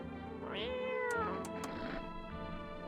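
A video game cat lets out a drawn-out, complaining meow after being picked up, with a rising then falling tone, heard alone over a faint steady background hum.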